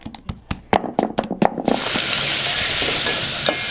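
Onions, carrots and spices stir-fried in oil for a prawn curry in a village kitchen on Lamu Island: a run of sharp knocks and taps, then a loud, dense sizzle that holds steady once the food hits the pan.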